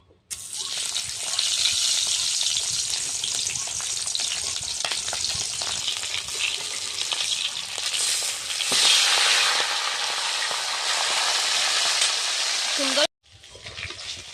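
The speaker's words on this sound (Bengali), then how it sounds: "কড়াটা বসিয়ে দিলাম উনুনের মধ্যে গরম হয়ে গেছে মাছের মাথা ভেজে নিচ্ছি" Steady, loud frying sizzle of catla fish heads in hot oil in a wok on a clay stove, nearly unbroken with occasional stirring scrapes, cutting off briefly near the end before resuming.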